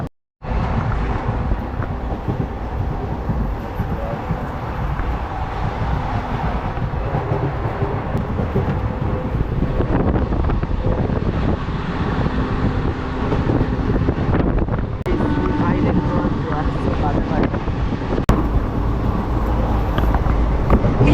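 Teesta Torsa Express passenger train running on the Sealdah to New Jalpaiguri line, heard from inside as a steady loud rumble and rattle of wheels and carriages with wind noise.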